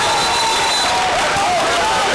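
A boys' basketball crowd at a Lorain versus Bedford high school game roars steadily from the Lorain side, a loud, continuous wash of cheering and applause with a faint whistle-like tone running through it.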